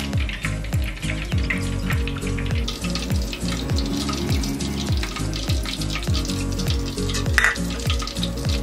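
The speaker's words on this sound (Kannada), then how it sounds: "ಈಗ ಇದನ್ನ ಎಣ್ಣೆನಲ್ಲಿ ನೀಟಾಗಿ ಫ್ರೈ ಮಾಡ್ಕೊಳ್ಳೋಣ." Baby corn pieces coated in batter fry in hot oil, making a dense, continuous crackling sizzle with rapid bubbling pops, close and fairly loud, with no voices.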